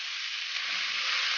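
Beef sizzles steadily as it is sautéed with garlic and onion in a pan for Filipino-style Japanese beef curry, a close, even frying hiss with no voices.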